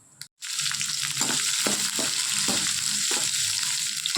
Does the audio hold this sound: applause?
no